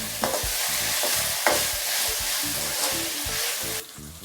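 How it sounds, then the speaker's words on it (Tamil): Ginger garlic paste being stirred and sautéed in a pan for Pallipalayam chicken, steady loud sizzling with a spoon scraping in repeated strokes, then the sizzle drops abruptly near the end. "இஞ்சி பூண்டு பேஸ்ட் போட்டாச்சு. இது கொஞ்சம் நல்லா பச்சை வாசம் போகிற அளவு நல்லா வதக்கிக்கலாம்."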